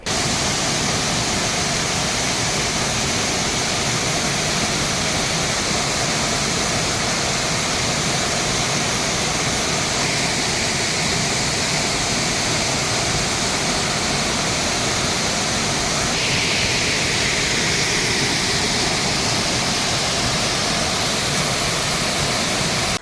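Small waterfalls and forest streams flowing after heavy monsoon rain, a dense, steady rushing roar of water that fills the whole stretch without pause, even and unbroken, with no voices.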